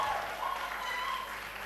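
Audience clapping at a medical laboratory science induction ceremony, a steady dense patter of many hands filling the hall with no pauses.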